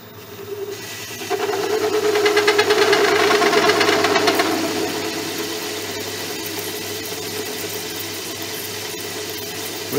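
A Myford Super 7 lathe runs at about 600 RPM on its lowest belt speed while a grooving tool makes a test cut, giving a steady mechanical hum with a rougher cutting noise that swells and then eases off.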